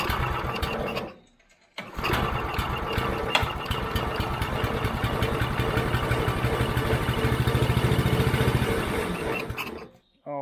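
An old abandoned go-kart's small engine, flooded, sputters briefly, cuts out, then catches and runs with a fast, loud, steady putter for several seconds before stopping abruptly.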